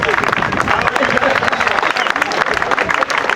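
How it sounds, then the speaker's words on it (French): Audience applause at a team quadrathlon event, dense steady clapping from a crowd mixed with cheering and babble, loud and continuous throughout. "Alors, applaudissements s'il vous plaît."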